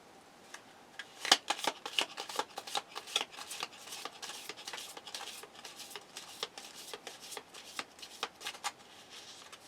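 Tarot cards shuffled by hand in a steady run of crisp riffling flicks and taps, close and fairly quiet, with no voices for nearly ten seconds.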